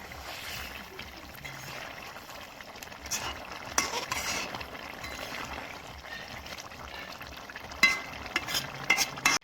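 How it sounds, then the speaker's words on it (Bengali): A pan of radish and catla fish curry with cumin powder is stirred, soft bubbling and a faint sizzle under intermittent scraping and clinking of the spoon against the pan. "এখন আমি নেড়ে দেবো।"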